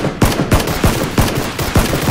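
Gunfire in the battle game PUBG, with loud, sharp shots cracking out at a steady rhythm of about two per second across the whole span, each with a short echoing tail and no talk over them.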